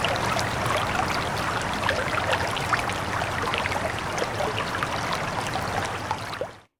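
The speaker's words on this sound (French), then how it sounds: "C'est le bruit de l'eau qui court sur les pierres, dans le lit d'un ruisseau." Steady babbling of a stream rushing over stones, a continuous bright gurgle and trickle with no voices, close and fairly loud throughout.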